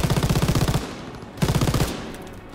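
An MG42 machine gun fires in Call of Duty WWII in two rapid bursts of rattling automatic shots, the second after a short pause, loud and close with no talk over it.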